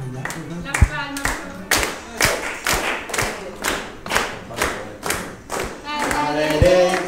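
Congregation at a Spanish-language church service clapping hands in a strong, regular rhythmic beat, loud and close, with voices and music underneath the claps.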